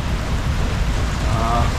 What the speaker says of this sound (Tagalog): dumakas na yung ulan.